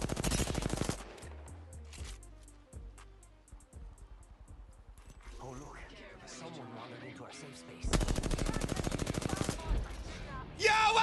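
An R-301 rifle in Apex Legends fires in rapid automatic bursts, loud at the start and again toward the end, with scattered shots, game effects and talking in between.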